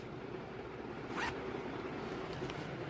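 A clothing zipper on a garment at a surplus clothing sale is pulled once in a short, close rasping zip over steady background crowd noise.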